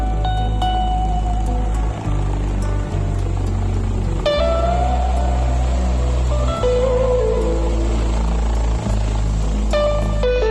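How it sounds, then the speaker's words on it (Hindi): Helicopters at the Kedarnath shrine helipad, a steady loud engine and rotor drone running throughout, with shifting whine tones as craft land and take off, no talk. "एक के बाद एक हेलीकॉप्टर की लैंडिंग और उड़ान नजर आएगी"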